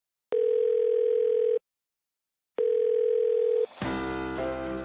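A telephone ringback tone on an unanswered call, two steady beeps about a second each separated by a pause, followed by a burst of louder music.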